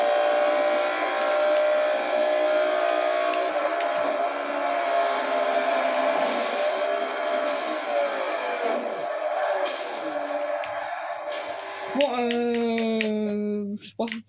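Race car engine in a NASCAR-style video game, a loud sustained high drone held nearly throughout with shifting pitch and a sharp change near the end, close and steady.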